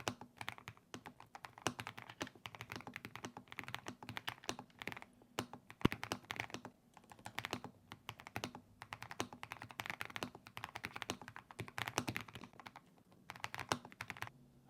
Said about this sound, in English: So what do I make of the typing experience?